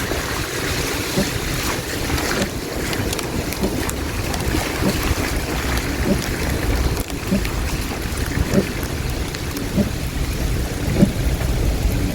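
Steady, dense rain hiss from Storm Eta in southern St. Elizabeth, Jamaica, with gusty wind buffeting the microphone, continuous and loud throughout, with occasional low thumps.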